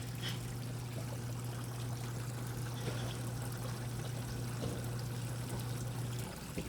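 Rinse water runs through a Scotsman ice machine during a sanitizer rinse cycle, a steady trickling flow over a constant low mechanical hum that drops out near the end.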